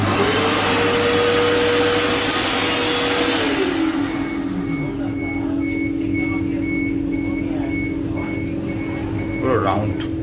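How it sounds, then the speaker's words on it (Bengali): Hand dryer in a Vande Bharat train bathroom, blowing with a loud steady whine that drops in pitch partway through and keeps running as a steady hum, with a faint beeping tone in the background. "এই হ্যান্ড ড্রায়ার,"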